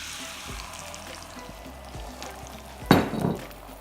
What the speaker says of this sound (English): and pour the egg mixture straight in.